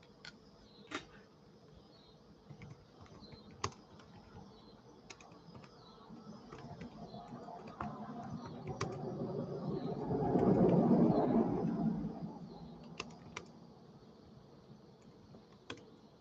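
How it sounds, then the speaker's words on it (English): Typing on a computer keyboard in a quiet room: scattered, fairly soft key clicks at an irregular pace, with a low rumbling swell building in the background toward the middle before fading. "I'll type that in."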